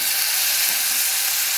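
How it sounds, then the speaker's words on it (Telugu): Tomato pieces fry with onions in a pan, producing a continuous bright sizzling hiss, steady and close throughout. "టమాటా ముక్కలు కూడా కొంచెం వేగనిద్దాం."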